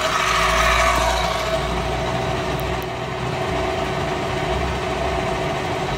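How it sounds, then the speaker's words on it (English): A South Bend CL-187RB 10-by-36-inch belt-drive tool room lathe runs with a steady, even mechanical hum and whir, loud and close with no pauses. "It's a belt drive lathe."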